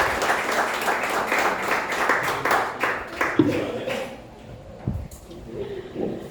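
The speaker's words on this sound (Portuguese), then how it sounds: "Aplauda ao Rei mais uma vez" A congregation claps together in a church service, dense rhythmic applause that thins out after a few seconds into scattered claps, thumps and low voices.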